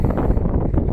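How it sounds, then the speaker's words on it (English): Wind buffets a microphone at a windy riverside spot near a UK forest garden, a dense low rumble lasting about a second. "and it's a windy spot"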